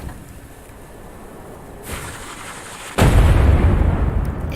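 A grenade goes off in a video game: a quiet rushing lead-in, a brief swell, then a sudden loud, booming blast that keeps rumbling.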